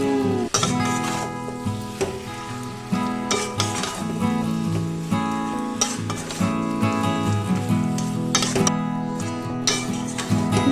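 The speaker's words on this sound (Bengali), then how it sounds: "এবার আমি যে শুটকিটা আমি রান্না করে রেখেছিলাম সেই শুটকিটা আমি দিয়ে দিচ্ছি।" Spatula scraping and stirring mixed vegetables with dry fish in a metal pan, in a steady rhythm of scrapes and clinks over a low sizzle, close by, with music playing underneath.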